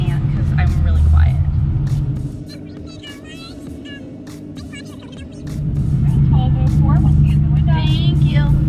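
A 1,140 hp supercharged Gen3R Coyote engine in Track Attack mode rumbles loud and close, easing back in the middle before swelling again, with someone talking over the drone.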